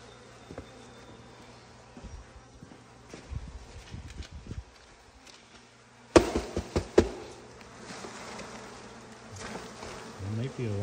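Honey bees buzz steadily close by, a droning hum with scattered rustles and a few sharp knocks partway through.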